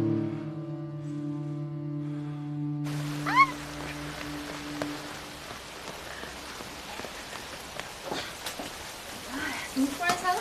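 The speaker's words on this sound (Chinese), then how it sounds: "大雨" Heavy rain pours steadily in a drama scene, a dense, continuous wash of drops that takes over after a sustained musical chord fades, with scattered louder splashes and brief voice-like sounds mixed in.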